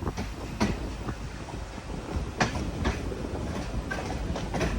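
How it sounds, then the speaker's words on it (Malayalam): A train pulling into Udupi railway station, with a heavy rolling rumble and rhythmic wheel clacks over the rail joints, close and continuous. "ഉടുപ്പി റെയിൽവേ സ്റ്റേഷനിലേക്ക് ഇതാ നമ്മുടെ വണ്ടി എത്തിക്കൊണ്ടിരിക്കുകയാണ്"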